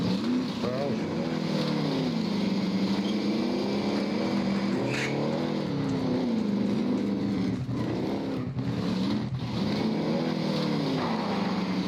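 A quad vehicle driving in the Warzone video game, its engine droning steadily and rising and falling in pitch as it moves, with several players talking over the engine throughout.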